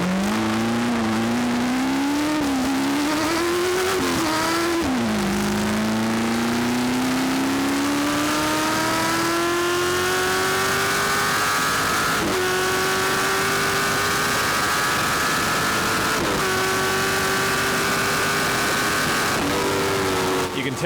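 A 1965 Ford Mustang GT race car screams down a runway, its engine held hard on the rev limiter. The loud, close onboard roar climbs in pitch, with stuttering breaks at the gear changes.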